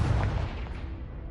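Confringo blasting spell from a Hogwarts Legacy game erupts in a loud, low booming blast at onset, rumbling and decaying over about a second with no voices.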